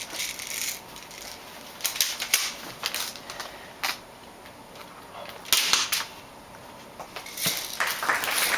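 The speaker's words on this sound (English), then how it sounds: "to shoot a pop can from across the studio." Sharp cracks of a small gun fired at a pop can across a TV talk show studio, several distinct bursts spaced irregularly, with faint background noise between them.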